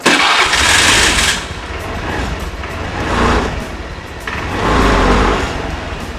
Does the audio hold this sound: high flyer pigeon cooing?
no